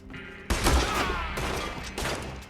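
Rolling block rifle fire in the video game Red Dead Redemption: three loud, sharp shots land about a second apart, each followed by a booming tail of reverb, with no voices over them.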